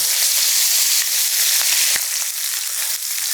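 Steaks sizzle steadily in a hot cast iron pan, a loud, dense hiss of frying fat with faint pops and crackles throughout and no voices.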